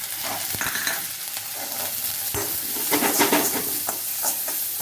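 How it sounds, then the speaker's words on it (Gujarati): Vegetables with ginger and green chili sautéing in hot oil on high heat, a steady loud sizzle with scraping stirs of a spatula in the pan, continuing throughout without talk. "ખૂબ જ આપણે હાઈ હીટ ઉપર સોતે કરવાના છે"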